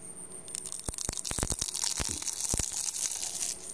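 Crispy food crunched while eating during a mukbang of rendang jengkol, a burst of sharp crackling bites and crinkles in quick irregular succession, close to the mic with no talk.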